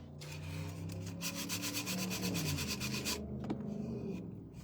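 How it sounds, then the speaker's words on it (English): Hand sanding smooths a broken edge on a craft piece being prepared for paint: continuous close, rasping back-and-forth rubbing strokes at a quick, steady rhythm, easing off toward the end. "So I'm just kind of sanding it so we smooth it out a little."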